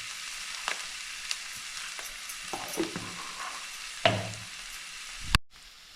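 Onion sautéing in a pan with salt for samosa filling, a low sizzle under intermittent spatula scrapes and clinks, with two sharper knocks near the end before sudden quiet.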